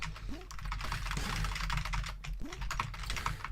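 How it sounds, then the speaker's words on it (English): Rapid, continuous clatter of computer keyboard keys being hammered during an arcade fighting game, dense and close, with game sounds beneath. "I'm just hammering keys and nothing's happening."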